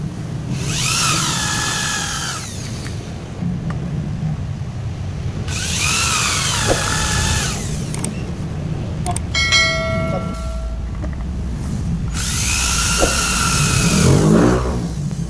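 A small power drill whirs in three separate bursts, each spinning up and winding down, drilling bolt holes in a Yamaha NMAX scooter bell housing, with clinks and handling noises in the pauses between.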